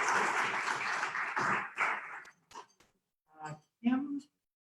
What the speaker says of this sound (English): can we have a big round of applause for our guests?